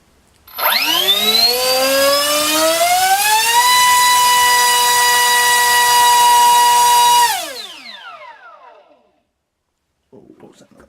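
A Paidiss MT 2836 3500kv brushless motor on 3-cell spins a 5x5 propeller in a thrust test, letting out a loud whine that rises quickly, holds steady for several seconds, then falls away; a voice follows.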